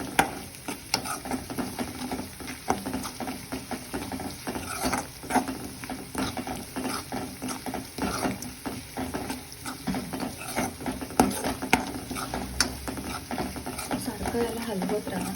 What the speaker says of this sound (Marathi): सारखं याला हलवत राहा, कारण सगळीकडून व्यवस्थित ते शिजल्या जाईल याची काळजी घ्या